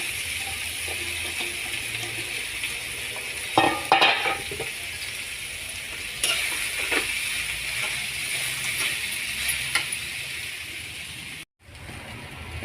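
Chopped tomatoes sautéed with onions in a pan for poha, a continuous bright sizzle with intermittent clacks of a stirring spoon against the pan, close and steady, briefly cut off near the end.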